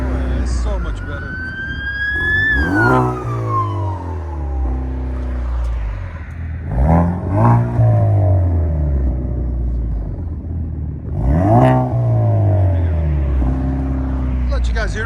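A 2016 Chevy Camaro Turbo with a Dynomax and LCGP exhaust revs three times, each sharp climbing roar falling back to a deep rumbling idle, loud and close, with people talking over it.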